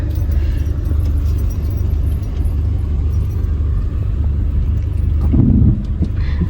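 Interior rumble of a car driving along a road in a two-vehicle convoy, steady low engine and tyre drone with light rattling and a brief louder thump near the end, no talk.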